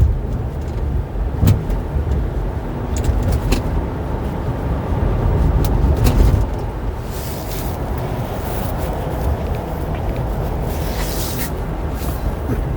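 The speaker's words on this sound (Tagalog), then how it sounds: "There's a bus next to me." A big bus rolls alongside a car in busy Australian traffic, heard from inside the car as a steady, close road and engine rumble with swells of passing-vehicle noise and brief hissing bursts, no talking.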